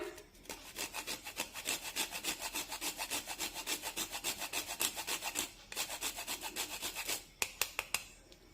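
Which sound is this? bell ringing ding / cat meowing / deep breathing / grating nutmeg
grating nutmeg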